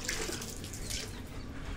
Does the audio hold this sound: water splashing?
yes